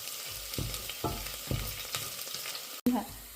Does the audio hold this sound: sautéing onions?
yes